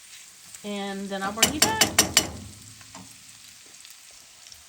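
Chipotle lime shrimp and pork sizzle in a pan over an off-grid cooking setup, with a quick run of utensil clacks as the food is stirred, while a person speaks briefly.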